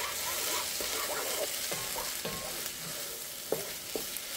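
Shrimp étouffée with garlic stirred in a hot pan over medium-high heat, a steady loud sizzle broken by occasional spatula scrapes and taps.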